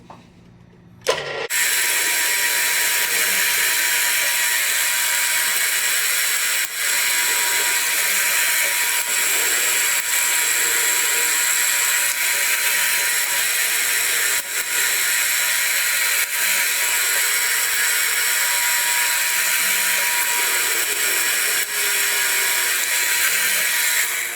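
A machine starts with a sudden jump and then runs steadily, cutting a Delrin ramp block with a dense, constant whine and a faint tonal hum, broken by a few brief knocks.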